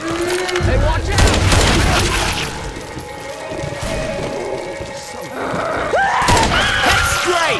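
Dense video-game gunfire as survivors shoot zombies in Left 4 Dead 2, loud bursts and rapid shots blending with in-game voices calling out over the fight.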